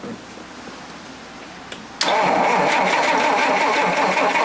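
A Rolls-Royce Silver Cloud with a fault preventing it from running; quiet background and a small click, then a sudden loud steady engine cranking or running sound that continues to the end.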